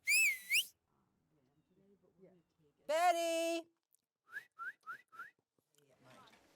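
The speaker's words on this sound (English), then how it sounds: "It's a New York City taxi whistle." Several loud, shrill New York City taxi whistles blown outdoors on a farm: a long rising blast, then another sustained one, followed by four quick short chirps, with a single shouted word in between.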